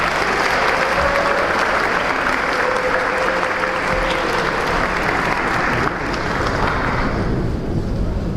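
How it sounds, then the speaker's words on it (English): A large audience at a Chabad of Rechavia celebration in Jerusalem applauds for the Great Synagogue with loud, sustained, dense clapping that holds steady throughout. "A big round of applause for the Great Synagogue."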